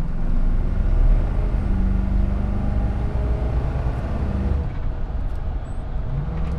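A Jensen Interceptor accelerates hard with its foot-down engine droning in a loud, steady low roar from inside the car, the pitch holding broad and even with no talking.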